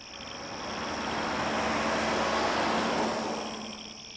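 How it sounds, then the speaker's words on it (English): A single car passes by, its broad road noise swelling to a peak midway and fading away again, with a faint steady hum underneath. "One night a passing car gave me the clue."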